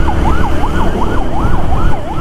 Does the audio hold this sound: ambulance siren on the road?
yes